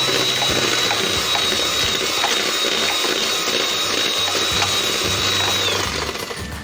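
Sugar and oil being beaten together for mango bread batter make a close, continuous mechanical whirring with a rattling, ratchet-like texture. The sound holds steady for several seconds and eases off at the end, with no one talking.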